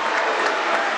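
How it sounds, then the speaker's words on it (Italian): Crowd applause fills a handball arena during a Serie A Gold match between Fondi and Conversano, a dense, steady wash of clapping that holds at one level for about a second. "applauso del pubblico"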